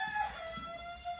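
A hen clucks inside a chicken coop in a short run of soft, close calls over a low, steady background hum.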